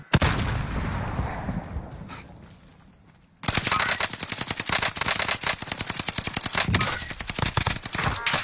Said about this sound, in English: I'm getting shot by another team